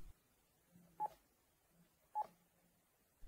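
Two short telephone keypad tones a second apart, entering a programming code on a Panasonic KX-TES824 phone system, crisp and isolated in a quiet room.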